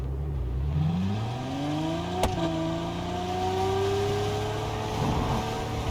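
A car in the racing game Test Drive Unlimited Solar Crown pulls away, its engine tone climbing steadily through the gears with a brief shift break partway, a smooth continuous drone and no talk.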